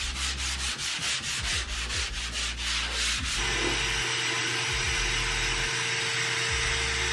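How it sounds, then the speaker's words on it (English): Sanding a bathroom ceiling during a remodel, a rhythmic scratchy rubbing in quick back-and-forth strokes that gives way to a steady motor whir, close and loud with no talk. "The over the ceiling sanding sucks."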